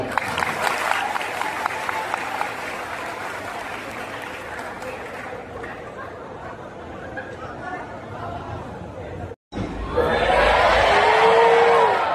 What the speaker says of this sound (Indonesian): tepuk tangan untuk Mas Gibran